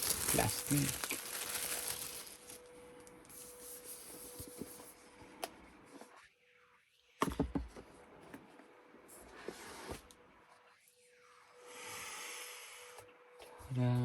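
Plastic wrapping peeled off a new iPad Pro 12.9-inch 1TB during unboxing, close crinkling and rustling that comes in bursts separated by quiet gaps, with a voice talking at times.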